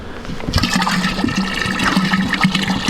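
Liquid bee-treatment solution pours steadily into a 20-litre milk can, a continuous gushing, splashing flow that starts abruptly and runs loud and close for several seconds, with no talking.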